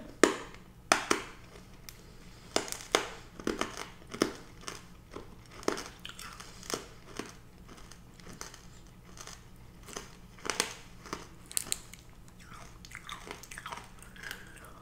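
Close, crisp bites and crunching of Polish hard candies, one sweet with an orange or lemon flavor, repeating in irregular bursts with soft chewing between them and no talking.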